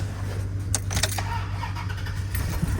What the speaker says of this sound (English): let's see if it'll crank now